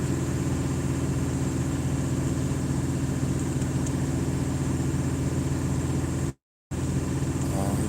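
A 2012 Nissan Pathfinder engine idles steadily during fuel injector cleaning, a continuous even drone close by, broken once by a brief dropout near the end.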